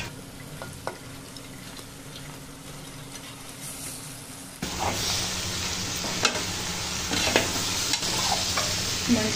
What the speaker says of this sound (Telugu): ఇప్పుడు దీంట్లో చిక్కుడుకాయ వేసుకోవాలి.